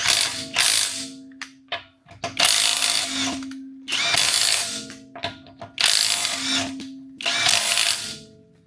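A power tool, likely a ratchet-type driver, loosens bolts that had been over-tightened with an impact gun on a budget car rebuild, loud ratcheting bursts repeating in roughly five long runs with brief pauses between.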